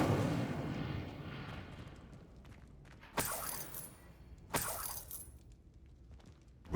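Two sharp magical blasts from the Incendio fire spell in Hogwarts Legacy burst out about a second apart over a low rumbling game ambience, each with a bright crackling flare that quickly fades.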